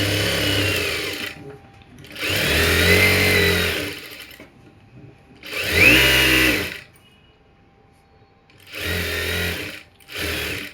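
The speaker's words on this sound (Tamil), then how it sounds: "2 கிளாத்தையும் ஒன்றா வச்சு தையல் போடுறீங்க" A sewing machine stitches two layers of cloth for an umbrella frock in four loud bursts of rapid running, separated by short quiet pauses.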